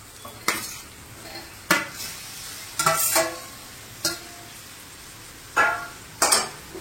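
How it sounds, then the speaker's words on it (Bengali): Fried pointed gourd stirred into a prawn masala in a pan: sharp spatula scrapes and clanks strike about seven times at irregular intervals over a soft, continuous sizzle, close and clear. "এবার আমি এখানে দিয়ে দেব পটলগুলো।"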